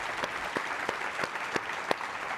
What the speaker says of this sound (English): let's give a round of applause for Sherry Blair